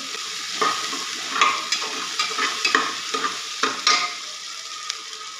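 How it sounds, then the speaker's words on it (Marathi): A spoon stirs a sizzling rice and dal khichdi mixture with ginger-garlic paste in a hot pan, steady frying hiss with regular scraping strokes, close up and without talk. "ते पूर्ण मिश्रण आपण परतून घेऊया त्यामुळे आपली खिचडी जी आहे ते खूप छान होते"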